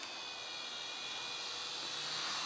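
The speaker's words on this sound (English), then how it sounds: "Low passes are fun to do with this drone." A steady high-pitched whine of a small drone's motors, loud and close, sweeping slightly as it passes by, with no talking.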